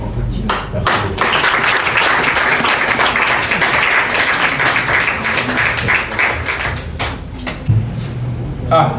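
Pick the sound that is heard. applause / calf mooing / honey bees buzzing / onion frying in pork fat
applause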